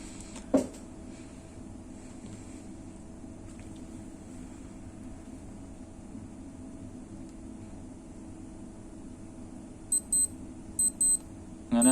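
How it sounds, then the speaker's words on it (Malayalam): A Casio G-Shock wristwatch alarm set for 6:30 goes off in a quiet room: after a long hush, three short clusters of thin, high electronic beeps sound close by. "അങ്ങനെ അലാറം അടിക്കുന്നതാണ്"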